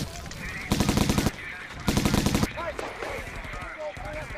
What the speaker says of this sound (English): they started a machine gun duel. That machine gun shooting at him and him shooting back